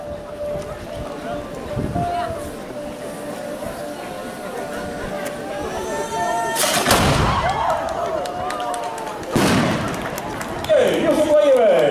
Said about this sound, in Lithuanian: jis sukonstravo šitą patranką savo rankom ir dabar iškilmingai šūviais mes pagerbsime